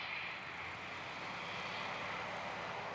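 A small propeller aircraft comes in to land at Christchurch airport for a fuel stop, its engine drone steady, faint and distant throughout, with no voices.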